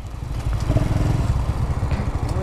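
Close, loud, raspy engine of a Honda Pop 110i motorcycle ridden without an air filter and carrying a passenger, a rapid continuous putter with steady revving and no talk.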